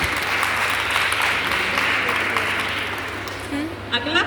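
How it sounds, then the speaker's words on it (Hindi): A quiz audience claps together, a dense burst of applause that fades over a few seconds, with a voice starting to speak as it dies away. "सब अपने लिए ताली बजाइए।"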